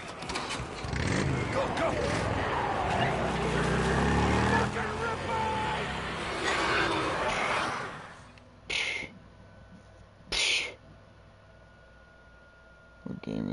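A motorcycle in the video game Days Gone roars loudly and continuously for about eight seconds under an urgent shouted voice. Then it drops away, leaving two short bursts of noise.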